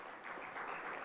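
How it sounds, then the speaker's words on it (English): A conference audience at a blockchain conclave inauguration applauds in a brief, dense burst of clapping that swells slightly and continues steadily with no voices. "deserve a round of applause"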